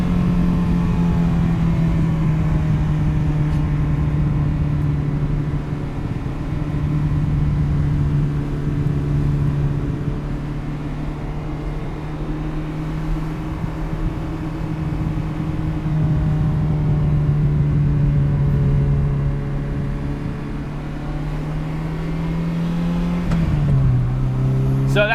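A 1989 Ferrari 328 GTS engine hums steadily from inside the car on a test drive, a continuous close drone with a slight shift in pitch near the end.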